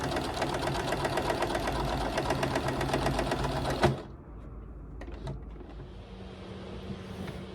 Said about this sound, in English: And then sew that section.